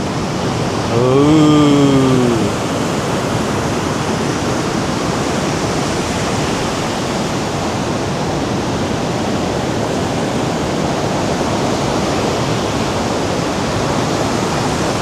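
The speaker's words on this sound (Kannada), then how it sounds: "ಅಲೆಗಳು ನೋಡಿ ಹೆಂಗೆ ಬರ್ತಾಯಿದೆ." A continuous roar of surf breaking on a beach at Gokarna washes over the whole stretch, broad and steady, with a short voice rising briefly at the start.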